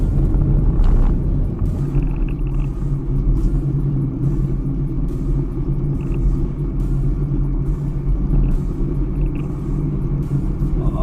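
Car cruising in fifth gear at about 80 km/h, a steady deep road and engine rumble filling the cabin, even and continuous with no talk.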